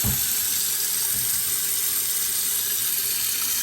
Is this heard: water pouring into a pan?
yes